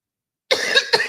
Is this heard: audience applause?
no